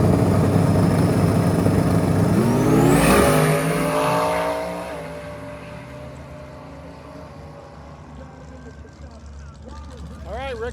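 A 4000-horsepower drag race car roars loudly and close, its engine note rising as it launches, then fading into the distance as the run goes on, with voices faintly under it.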